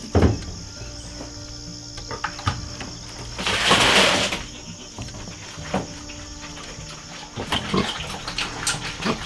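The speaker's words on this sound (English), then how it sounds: "then we pour it in a feed trough inside the trailer and the pigs are going crazy for it" Pigs eat milk-soaked grain from a feed trough inside a trailer, giving close, wet slurping, snuffling and grunting, with a louder splashing burst in the middle and insect-like chirping in the background.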